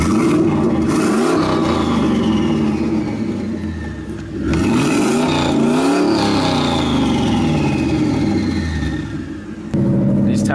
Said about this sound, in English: I don't have a blow-off valve on it right now, but I just went for a quick little drive just to kind of see.